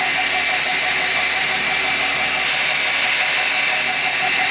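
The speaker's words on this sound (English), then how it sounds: "I'm going to slack belt grind right here" A knife blade is slack-belt ground on a 600 grit Norton Trizact belt, giving a loud, constant whirring grind that holds steady throughout, near and unbroken.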